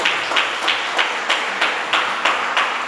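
A church congregation claps in unison, a steady rhythmic beat of roughly three claps per second, moderately loud and even, with no voices over it.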